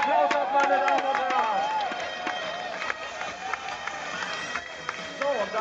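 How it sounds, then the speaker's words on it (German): Spectators applauding runners at the Frankfurt Marathon start, a broad crowd roar of clapping and cheering beneath a loudspeaker announcer's voice and music-like tones, steady throughout. "Zunächst mal holen Sie sich Ihren Applaus ab"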